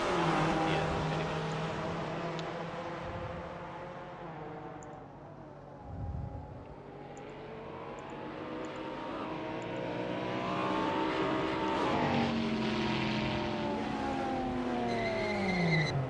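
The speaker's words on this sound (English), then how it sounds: "you can listen to the sounds of some of these cars" Race cars lapping the Sandown circuit in a sim racing game, engines droning and revving continuously at steady loudness, with shifting engine pitch as cars accelerate and brake, and occasional tire noise.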